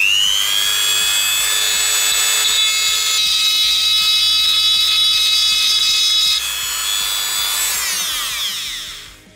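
A rotary tool polishes an aluminium tube with a steady, high, close whine rich in overtones, then the pitch slides down as the tool spins down near the end; no one speaks.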